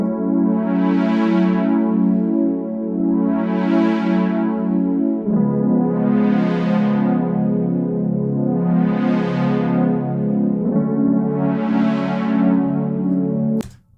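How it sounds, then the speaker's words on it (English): Sustained piano chords, each strummed so the notes roll in quickly, repeating in a slow, even pattern, close and moderately loud with no voices. "this piano sounds really good when you strum the notes"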